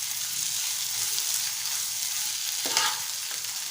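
Boiled potato sabzi stir-fried in a pan, a steady close sizzle and frying hiss throughout with a brief scrape of stirring near the end.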